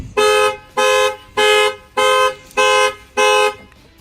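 A 2018 Mercedes E300 car alarm, set off by an added shock sensor, blares six evenly spaced loud, harmonic tones with short gaps between them, close and clear with no talking.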